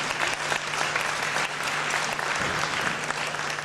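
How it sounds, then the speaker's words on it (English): Steady applause from the audience at a community center renaming ceremony, a dense, even clapping crowd sustained throughout, with a faint low hum underneath. "Let's give a round of applause again to Lieutenant Governor Elaine Walker."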